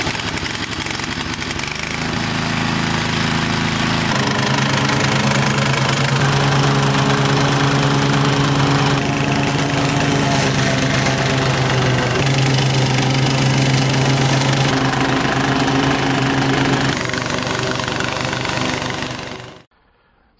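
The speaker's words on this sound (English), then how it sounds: "So now you've seen how this mower cuts." A Toro Turfmaster 30-inch lawn mower re-powered with a Kohler CV200 engine runs loud and steady while cutting grass, its engine drone constant for nearly twenty seconds before cutting off abruptly, with no voices.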